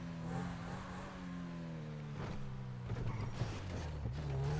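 A car engine hums and revs at moderate level in the video game GTA 5, a steady low drone with a few mechanical clunks and creaks as it moves.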